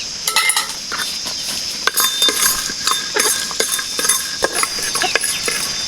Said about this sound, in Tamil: இப்போ சுக்கு மிளகு ஏலக்காய் போட்டு வறுத்துக்கலாம்.